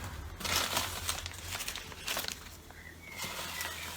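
Packing paper crinkles and rustles softly in short bursts while being pulled from a box holding a Ford Fiesta Mk3 rear wiper motor, close and alone with no talk.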